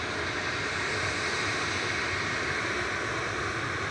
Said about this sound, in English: It's the whiny baby plane.